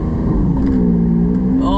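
A Lamborghini Aventador with a single-clutch gearbox revs its big, loud engine steadily, a continuous throaty drone that rises slightly near the end, with a voice talking over it.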